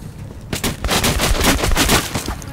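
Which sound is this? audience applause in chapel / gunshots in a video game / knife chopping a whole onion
gunshots in a video game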